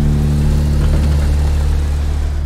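Tractor engine in the video game DayZ, a steady low idling drone with a constant hum and slight rev fluctuations, loud and close, alone without talk.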